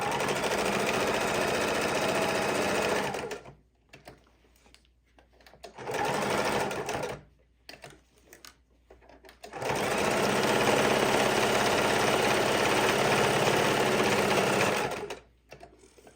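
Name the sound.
sewing machine stitching a fidget quilt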